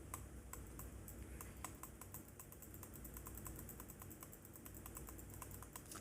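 A clicky computer mouse being jitter-clicked: rapid, evenly spaced sharp clicks run continuously and close up at low level, with a faint background hum and no talk.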